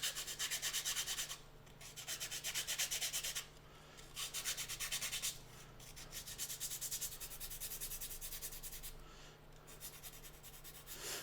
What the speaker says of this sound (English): So as you sand right to the back here and give that deep bevel